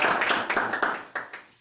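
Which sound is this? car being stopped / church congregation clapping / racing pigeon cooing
church congregation clapping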